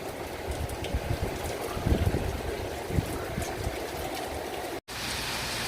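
Heavy rain from Hurricane Dorian pours steadily in Orlando, a dense continuous hiss with a few heavier gusts and spatters, loud and close, broken once by a momentary dropout.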